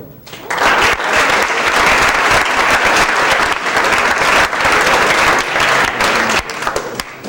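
Sustained audience applause for award winners at a Marymount College awards ceremony, with dense clapping that stays loud and even for about seven seconds before thinning slightly at the end.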